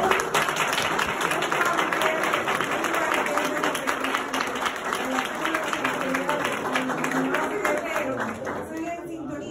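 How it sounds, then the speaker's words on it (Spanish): Lively audience applause after a history lecture at a museum, thick and continuous clapping throughout with voices mixed in underneath. "me vamos a dar un fuerte aplauso"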